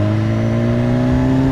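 A 2016 BMW S1000RR motorcycle engine revving loud and close, its tone steadily rising as the throttle opens, with no talk over it.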